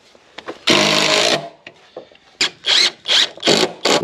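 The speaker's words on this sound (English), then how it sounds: "We'll pull these screws out." Screws are backed out of a board on a custom modern shed with a power driver, giving a long buzzing whir followed by several short, loud bursts with pauses between, close and clear without talk.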